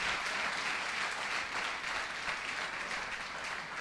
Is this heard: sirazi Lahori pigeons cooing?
no